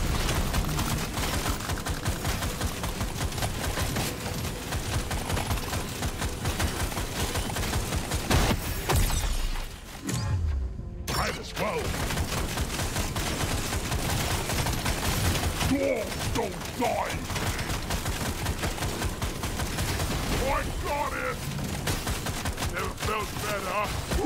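Rapid, dense gunfire from the video game Deep Rock Galactic Survivor in the Crystalline Caverns, a loud continuous barrage of shots with a brief gap midway, layered over game effects.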